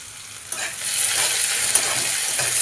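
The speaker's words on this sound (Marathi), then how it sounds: "कांदा ना जास्त लाल होईपर्यंत तळून घ्यायचा" Finely chopped onions frying in hot oil, a loud hissing sizzle that swells after a brief quieter start and then holds steady and close, with no talking.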